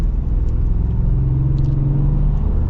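Engine of a 2025 Ford F-150 Tremor with the 5.0 V8, a steady, smooth, low rumbling drone running close and continuous for a few seconds.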